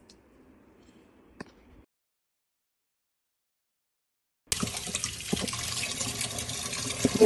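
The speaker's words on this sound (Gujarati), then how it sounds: "આ રીતના ભાજી આપણે ધોઈ નાખી છે" Fenugreek leaves being rinsed under a running tap: a faint trickle and a sharp tap, a stretch of silence, then a steady loud rush of water pouring into a sink continues to the end.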